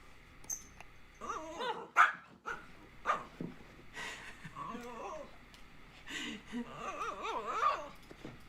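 An Alaskan Klee Kai barks and gives expressive, yodel-like howls and yips in several bursts close by, mixed with babbling and playful vocal sounds.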